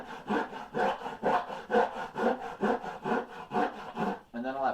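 A coarse rasp works a carved wooden boat half hull model in steady, close back-and-forth strokes, about ten in a regular rhythm, before a brief voice-like sound at the very end.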